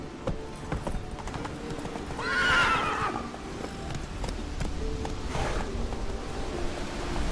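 Roach the horse in The Witcher 3 game whinnies once, loud and close, amid a steady run of galloping hoofbeats with a fainter second neigh later, no talk.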